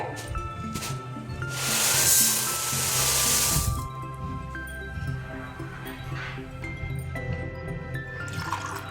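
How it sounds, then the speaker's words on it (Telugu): Water is poured into washed rice in a rice cooker pot, a splashing pour swelling for a couple of seconds and then trailing off into faint drips. "నేను ఇక్కడ వాటర్ అయితే వేసుకుంటున్నానండి"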